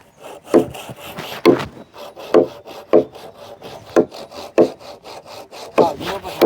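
A hand saw cuts through timber at a house-building site, with about a dozen rasping push-and-pull strokes in an irregular rhythm, loud and close, with no speech over them.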